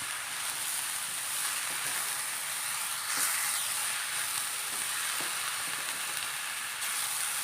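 Horse gram thoran being stirred as it fries in a pan, giving a steady, close sizzle with faint scraping from the stirring, with no voices.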